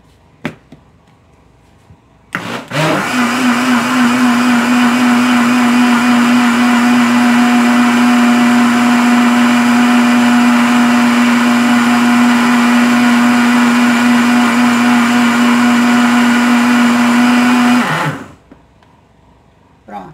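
A kitchen blender whirs steadily for about fifteen seconds as it mixes a frozen pudding mixture for a chilled dessert, starting abruptly and cutting off sharply, loud and close with a strong motor hum.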